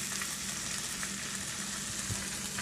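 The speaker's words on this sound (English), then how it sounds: "Now our skillet has been preheating for at least a minute, so let's see if it starts to sizzle." Bacon sizzles in a preheated skillet, giving a continuous, fairly quiet crackling hiss with small pops scattered throughout and no talking.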